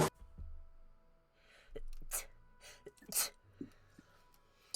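A single sharp sneeze bursts out amid quiet room tone during a tabletop role-playing session, followed by a second short burst and a few soft clicks and breaths.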